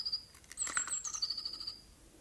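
A bird sings in a fairy-tale setting: a short run of high, thin chirps and whistles, fairly close and clear, with no talking over it.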